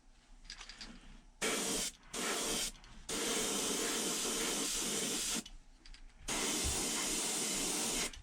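An airbrush sprays orange paint in several loud, close hissing bursts separated by brief pauses, the longest bursts lasting a few seconds each.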